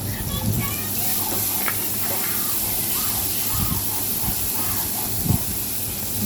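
Chopped onions fry in oil in a pan, a loud steady sizzling hiss that continues throughout, with a few soft clinks and knocks mixed in.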